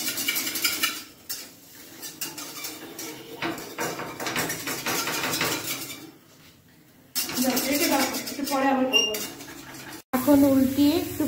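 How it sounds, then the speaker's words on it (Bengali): Suji uttapam with onion and tomato is flipped and fried in a pan, with metal spatula scrapes and clinks against the pan, close and repeated, under someone speaking. "এখন উল্টিয়ে একটু ভাজছি"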